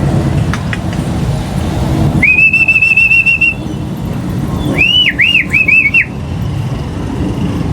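A bird gives a long sustained whistle, then a series of short rising-falling whistled calls, clear over steady background noise.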